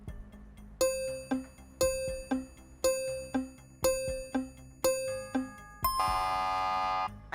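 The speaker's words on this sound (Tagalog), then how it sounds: "you rang the bell a little too late" A quiz show bell chimes as a two-tone ding-dong, repeated about seven times at a steady pace, then a longer sustained ringing bell tone at the end, clear and alone with no speech.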